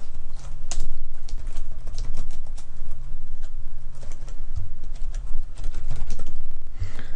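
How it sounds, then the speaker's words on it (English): Irregular clicking of computer keyboard typing, with bursts of keystrokes and short pauses, close and moderately loud over a faint steady hum. "let's type that in here"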